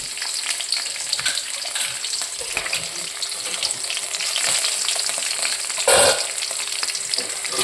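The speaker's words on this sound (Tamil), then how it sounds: "பொரிஞ்சிட்டு செவந்துட்டு இப்போ பச்சை மிளகா போடுறேன்" Green chilies frying in hot oil in a pan, giving a steady, close broadband sizzle with brief stirring scrapes and a louder spitting burst near the end; no one speaks.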